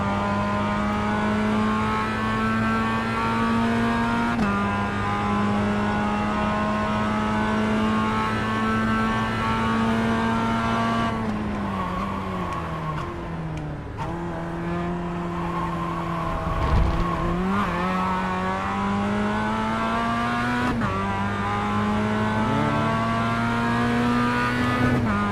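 Race car engine in a racing video game, pursuing an AI-driven Miata: a steady, loud engine drone with sustained harmonic tone, shifting pitch during gear changes and braking around mid-run, with occasional tire squeal, no talking.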